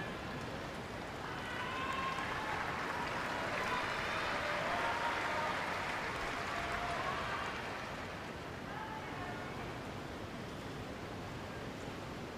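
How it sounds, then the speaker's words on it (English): Rain falls steadily during a tennis match at the Brisbane International, a diffuse, even hiss that swells slightly in the middle and continues without talk. "as the rain falls in Brisbane"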